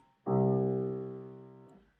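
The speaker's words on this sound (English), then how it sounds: "Lower notes, lower Cs, will sound like this." A low, rich piano note, a low C, struck once, sounding deep and full, ringing for about a second and a half before being released.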